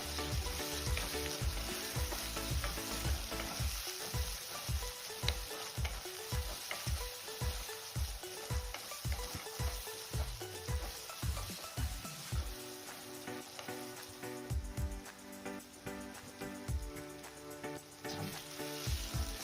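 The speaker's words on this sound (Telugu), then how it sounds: "ఆనియన్స్ కుక్ అయిన తర్వాత టమాటాస్ అండ్ పచ్చిమిర్చిని వేసుకొని కొద్దిగా కరివేపాకుని వేసుకొని ఫ్రై చేసుకుందాం" Tomatoes, green chilies and curry leaves fry in hot oil for a spicy mutton curry, giving a steady dense sizzle with repeated stirring scrapes, close and continuous, with no voices.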